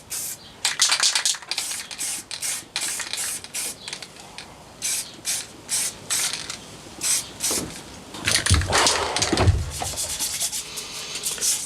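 Rhythmic strokes of sandpaper knocking back a freshly sprayed finish on a Telecaster guitar body, a dozen or so close, scratchy bursts in quick succession with brief pauses between.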